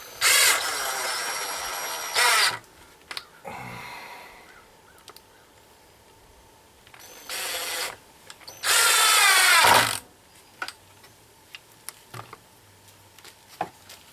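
A power drill drives screws while a passive food dehydrator is built at an off-grid project, with several loud bursts of whirring that stop and start, separated by quieter gaps of light clicks and handling.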